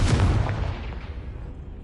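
Hogwarts Legacy Confringo fire spell: one heavy, loud explosive burst up front, then a rumbling tail that fades steadily over under two seconds, alone without voices.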